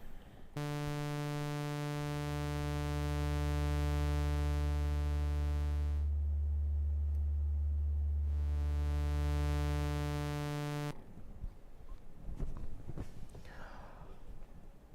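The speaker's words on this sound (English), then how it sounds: "There's also a sub-oscillator, which means that it puts the low end to a sound." A loud, deep synth drone with a heavy sub-bass layer from the synthesizer's sub-oscillator holds steady for several seconds, pauses briefly, returns, then cuts to faint noise.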